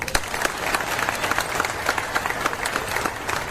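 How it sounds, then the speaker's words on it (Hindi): An audience at a railway awards ceremony gives loud applause for the track maintainers of the Bhusawal division, with sharp, crisp claps packed closely together throughout. "तो 40 गांव के जो मेरे ट्रैक मेंटेनर्स हैं उनके लिए तालियां।"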